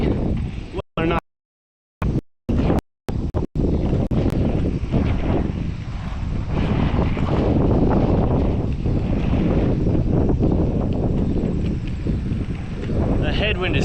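Heavy wind buffets a GoPro microphone as the wearer heads straight into a strong headwind outdoors, producing a continuous low roar with a few brief dropouts near the start. A voice is partly audible beneath the rumble.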